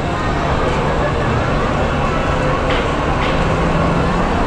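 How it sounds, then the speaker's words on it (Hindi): A Virar-bound train at a busy Mumbai railway station gives a steady loud rumble that fills the whole span, with the station crowd's murmur mixed in and no clear pause. "ये है विरार की ट्रेन।"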